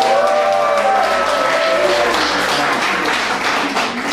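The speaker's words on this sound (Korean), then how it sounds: "우리 큰 박수로 부탁드립니다" An audience at a hiking club's year-end party applauds steadily, with loud, dense clapping filling the room right after a brief spoken introduction.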